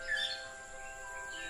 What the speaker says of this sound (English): The rare Sri Lankan blue magpie.